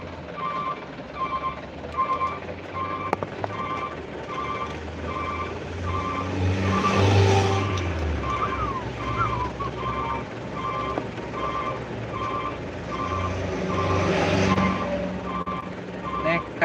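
Road traffic on a jammed highway near Koto Baru on the way to Bukittinggi, with a steady rumble of engines and a repeating electronic beep throughout, swelling with passing vehicles.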